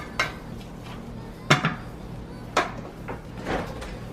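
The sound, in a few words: stirring seasonings in a pot for beef lasagna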